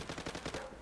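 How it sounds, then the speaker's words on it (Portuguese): Rapid automatic rifle fire from the Zula shooter game on the remastered Dust 2 map, a quick burst of several snappy shots in tight rhythm, moderately loud with no voices. "Eu dou, tipo, muito tiro na cabeça do cara."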